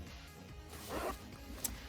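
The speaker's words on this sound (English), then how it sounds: "When the stationery kit is shut, you must unzip it so you can show off what's inside." A zipper on a Star Wars stationery kit is pulled open in one smooth near rasp midway through, followed by a brief sharp click, over quiet room tone.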